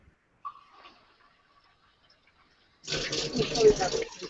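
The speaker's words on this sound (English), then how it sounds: "now it just sounds like a faucet" Water gushes from a faucet, starting abruptly after a quiet stretch and running loud and steady to the end, with a faint voice-like sound heard earlier.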